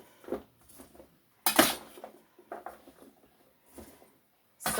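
A spoon clinks and scrapes against a pot while chicken with fresh parsley and basil is stirred, in scattered short bursts with quiet gaps between them, fairly close.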